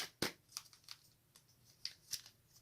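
A few soft, crisp tarot card flicks and slides as cards are drawn, quiet and close, with short pauses between them.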